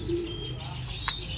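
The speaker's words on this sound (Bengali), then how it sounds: "মোটামুটি সমস্ত পায়রা এখন একটু ছাড়া হচ্ছে" Pigeons in a loft being let out, with soft cooing and a brief chirp over a steady low hum, fairly close and moderately quiet.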